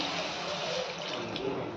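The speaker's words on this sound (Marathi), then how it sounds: "आता आपण थोडं पाणी घालून घेणार आहोत कारलं शिजायपुरतं" Water is poured into a pan of bitter gourd curry as it cooks, a steady, close splashing rush lasting throughout with no talk over it.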